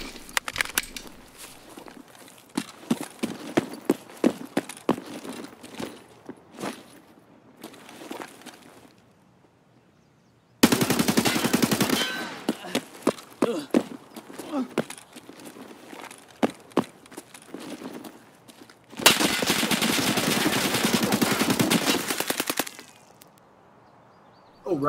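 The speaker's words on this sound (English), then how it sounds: "It was like burst firing." An AK rifle chambered in 5.56 fires in Escape From Tarkov: several loud bursts of rapid, cracking shots, with two long dense volleys standing out among scattered sharper reports.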